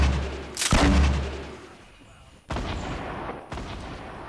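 Gunfire in the Fortnite video game, three heavy booming shots spaced about a second apart, loud and close, each with a short decaying tail.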